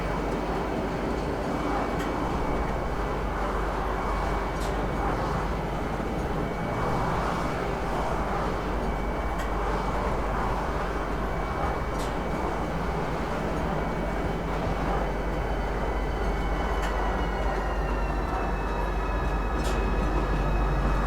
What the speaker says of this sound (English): Now arriving, Lorville City Gates. Please watch your step when disembarking the train.